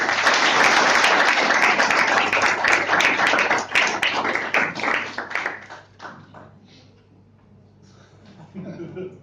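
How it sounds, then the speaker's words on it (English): A loud burst of applause from a Toastmasters club crowd at a new-member induction, many hands clapping densely before thinning into scattered claps and fading out. "can we have a huge round of applause for that?"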